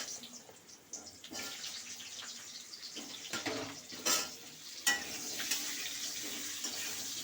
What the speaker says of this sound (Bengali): এবার এই তেলে আমি আলুগুলো ভেজে নেব।